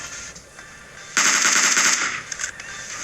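SLR rifle gunfire in the PUBG Mobile battle royale game: a sudden, loud, dense burst of shots lasts just under a second, then fades into quieter scattered reports and game ambience, with no speech.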